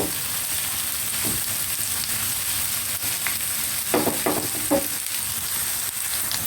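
Onions fry in a pan for a Bengali cow-belly biran dish, giving a steady, even sizzle with a few soft stirring clicks and scrapes scattered through.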